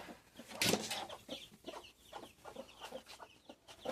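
Hen and a couple of chicks in a closed coop in the evening, giving a run of soft clucks and short peeps, with one louder burst early on and then steady lighter calls throughout.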